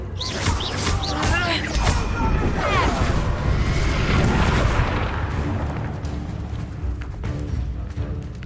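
Reductor blast spell in Hogwarts Legacy, a dense, loud booming explosion with crackling debris in a busy combat scene, overlapping other spell effects, with voices shouting over the fight.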